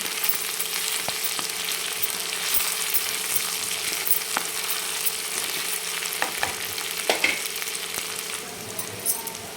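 Crushed ginger and garlic sautéing in a pan with a steady soft sizzle and occasional clinks and scrapes of stirring, continuous and fairly quiet throughout.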